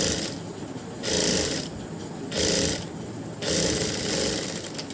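Electric sewing machine stitching thread, running in several bursts of steady mechanical whirring separated by brief quieter pauses, close and fairly loud with no talk.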